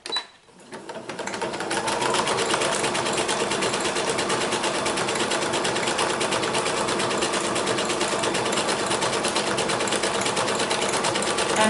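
A sewing machine stitches through paper for cardmaking, its steady rapid mechanical whirr and needle chatter running continuously for several seconds after a short start-up.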